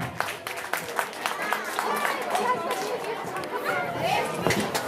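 Audience applause at a school annual programme, steady clapping from a crowd with chatter mixed in, sustained and fairly even throughout.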